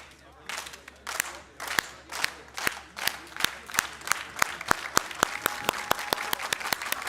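An esports broadcast audience applauds with sharp, evenly spaced claps, probably one person clapping close to a microphone, building steadily louder over several seconds with no cheering evident.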